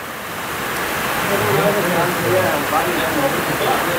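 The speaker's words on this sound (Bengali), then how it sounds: "প্রচণ্ড বৃষ্টি হচ্ছে বাইরে।" Heavy rain pours outside during an outdoor meal gathering, a steady broadband hiss that holds throughout with no letup, with faint voices murmuring underneath.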